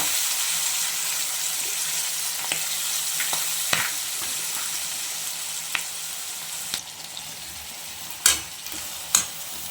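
Fenugreek leaves frying in a pan with a little turmeric, giving a steady soft sizzle with scattered sharp clicks of a spoon stirring, a few louder scrapes near the end.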